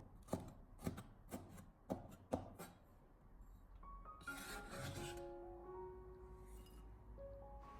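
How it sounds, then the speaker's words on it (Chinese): Knife chopping small chili peppers into rings on a cutting board, five sharp, evenly spaced taps close up, followed by quieter kitchen sounds and a soft rising tone. "把它直接的切成小圈。"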